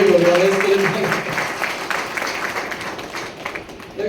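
Audience at a meeting held at a Swaminarayan temple in Nadiad applauds, a steady wash of clapping that gradually thins and softens over a few seconds.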